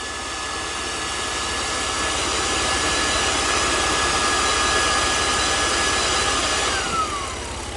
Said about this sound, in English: now the compressor is shut down, it's just the fan that's running